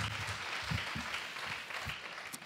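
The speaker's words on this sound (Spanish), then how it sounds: "era por el aplauso." Applause from an audience at a Podemos political rally in Vicálvaro, Madrid, a fairly faint, steady patter of clapping held at a distance for a few seconds.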